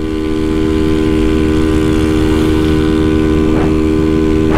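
Honda Fan 150 Mix motorcycle engine running at raised, steady revs, a loud continuous drone with a strong harmonic hum and no talking.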